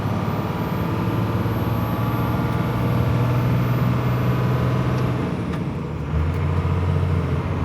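A second-generation Cummins diesel pickup drives along with a steady, loud engine drone and road rumble throughout, a low hum shifting pitch near the end, running smoky after a turbo repair.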